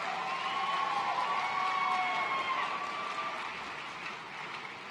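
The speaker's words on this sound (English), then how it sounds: "Graduates, feel free to applaud them" Graduates at a community college commencement ceremony applaud their faculty, a steady wash of distant crowd clapping with faint tonal sounds over it, easing off toward the end.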